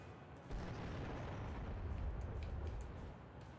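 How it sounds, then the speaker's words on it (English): A grenade blast in the video game Turok Evolution bursts in after half a second and rolls on as a heavy, sustained low rumble, loud and continuous to the end with no voices. "Here, take a grenade."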